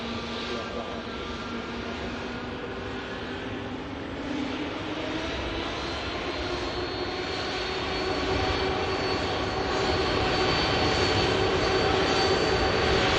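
A Lufthansa A320neo airliner taxiing at Manchester Airport gives off a steady, distant engine whine and rumble that slowly grows louder as it moves.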